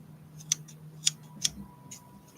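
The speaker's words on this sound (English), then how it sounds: "Yeah, I don't normally use scissors," Scissors trim the ear area of a handmade medieval-style cat art doll, giving three crisp, separate snips close to the microphone against a quiet background.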